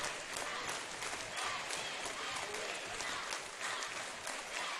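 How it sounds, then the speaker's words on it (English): A crowd at a high school boys basketball game roars and claps in a continuous, loud, distant wash of cheering and applause with no pauses. "the crowd just now starting to get loud"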